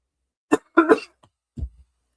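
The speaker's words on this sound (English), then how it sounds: "I apologize for the coughing" Several separate coughs from a single person, close and fairly loud, in a short sequence with a deeper throaty cough near the end and brief silent gaps between them.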